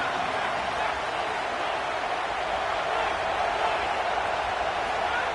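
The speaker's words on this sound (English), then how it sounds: "This crowd ready to make its presence known." A packed stadium crowd at a college football game between Indiana and Alabama roars in a constant, loud wash of cheering that holds at an even level for over five seconds, with no distinct voices standing out.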